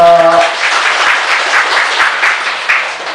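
Loud applause breaks out from an audience gathered for a Buddhist monk's talk, dense, close clapping that starts right after a short musical tone and tapers slightly at the end.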